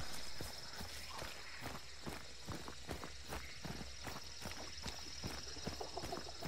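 Horse hooves in the video game Hunt: Showdown clop in a quick, steady rhythm, moderately close, running over a constant background hum.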